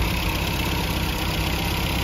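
A 1969 MG B five-bearing engine idles smoothly, a loud, steady, even mechanical hum heard close up throughout with no talk.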